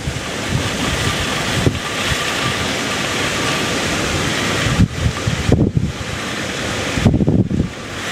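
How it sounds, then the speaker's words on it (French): Strong wind roars and gusts during Cyclone Batsiraï, with a dense rushing wash that could include heavy rain, buffeting the microphone steadily with a few louder bumps toward the end, close and loud, no voices. "on écoute la pluie tomber et on écoute le vent souffler"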